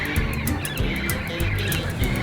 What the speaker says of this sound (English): You can hear them squawking in the background.